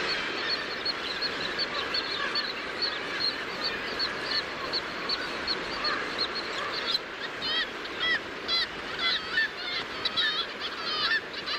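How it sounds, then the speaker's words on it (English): Kittiwakes clamor at a North Sea seabird colony in Shetland, a dense, continuous chorus of many overlapping shrill calls, growing busier and more insistent toward the end. "The kittiwake's clamoring calls are enough to deter"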